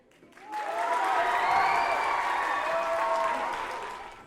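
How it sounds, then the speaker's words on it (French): Applause rises quickly from silence into steady, full clapping from an audience, holding for several seconds before starting to fade. "qu'on peut applaudir"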